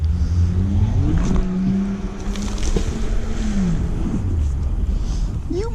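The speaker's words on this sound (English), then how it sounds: "Wow, your car can make a lot of noise." A noisy car engine revs close by, loud and rough, its pitch rising and falling in sweeping surges over constant rumble and outdoor wind noise.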